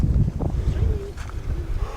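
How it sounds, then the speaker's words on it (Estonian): Wind gusts across an open mountain slope a few hundred metres above camp, a loud continuous rumbling roar buffeting the microphone, with faint voices talking in the background. "Tuuleõhk puhub ja."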